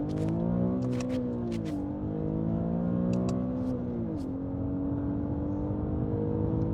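The engine of an Infiniti G37x hums steadily and rises in pitch after manual downshifts, with revs dipping and climbing again at each gear change, heard close from inside the car.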